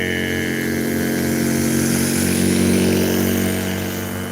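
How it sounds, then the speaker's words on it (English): A neighbor's motorcycle with a loud muffler rumbling past outdoors, a steady droning engine note that swells slightly and then eases as it goes by. "I can tell I'm getting older because the sounds of loud mufflers bother me"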